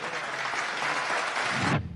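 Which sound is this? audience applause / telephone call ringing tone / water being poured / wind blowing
audience applause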